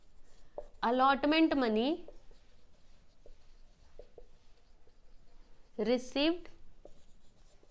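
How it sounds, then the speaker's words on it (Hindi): Pen scratching across paper while an accounts narration entry is handwritten, steady soft scraping throughout, with someone speaking briefly at the start and again near the end. "चलो अब इसका नरेशन लिख देते हैं।"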